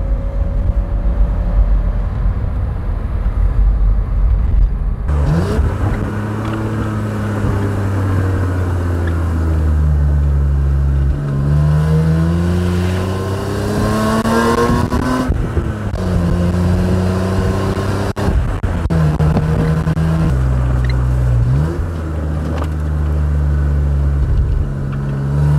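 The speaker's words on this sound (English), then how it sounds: "The exhaust note's lovely as well, actually." BMW E30 320i Touring engine and exhaust while driving, loud and close, rising and falling through the revs with gear changes and a raspy exhaust note, with no talking.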